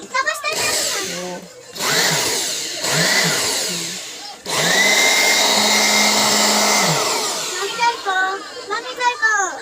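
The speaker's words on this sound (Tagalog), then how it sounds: "Dito yung blower. Tapos pwede siyang vacuum." A 2-in-1 blower and vacuum for cleaning computers whirs loudly in bursts, stopping and restarting several times before a long steady run, with a voice and talk audible between and over it.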